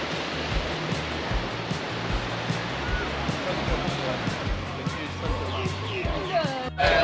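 Choppy ocean waves at a Sydney beach, a continuous loud roar of surf and churning water, steady throughout with faint voices in the background.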